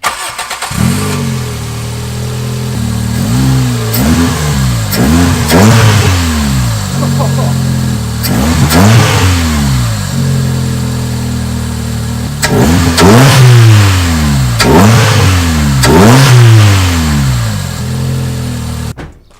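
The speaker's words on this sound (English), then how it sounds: "Listen to what the air filter sounds like." A Toyota Corolla engine with an open air filter is revved repeatedly in sharp rising bursts, with a loud intake roar on each blip, dropping back to idle between them.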